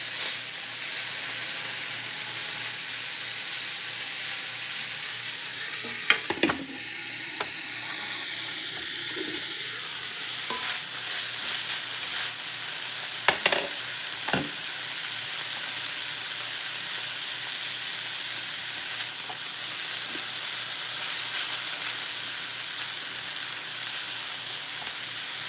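Gravy bubbling and sizzling in a pan on the stove alongside pork ribs, a steady frying hiss throughout with a few louder clinks and pops near the middle.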